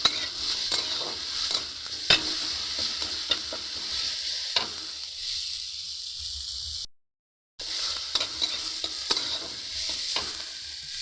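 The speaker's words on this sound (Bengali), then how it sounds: "এবার আদাটা টমেটোর সাথে ভালো করে মিশিয়ে নেব" Ginger and tomato with a little turmeric are stir-fried in a pan for a vegetarian soybean dish, giving a constant close sizzle and hiss broken by intermittent spatula taps and scrapes. There is a short silent gap in the middle, and no one talks.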